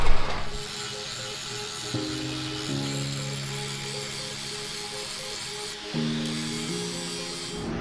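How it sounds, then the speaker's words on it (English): Angle grinder working over rusted metal on a classic truck's windshield channel frame, a steady close high whine with pitch shifts as the load changes, no talking. "let's get the grinder out and make it look good"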